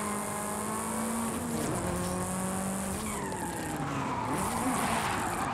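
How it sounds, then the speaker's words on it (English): A car in Forza Horizon 5 drifting through traffic, its tires squealing loudly and continuously over a straining engine whose pitch rises and falls across the slide. "Drifting through traffic"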